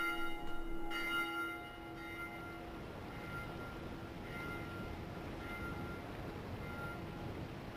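A bell tolls in the Dark Souls 2 video game, one strong resonant strike near the start whose long metallic ring fades slowly over low rumbling ambience.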